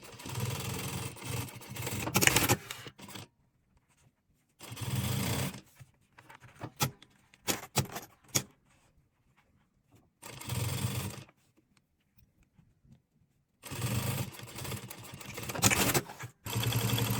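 A sewing machine runs in several bursts while stitching a zipper onto the inner pocket of a fabric shopper bag, steady whirring runs separated by silent pauses and brief handling clicks.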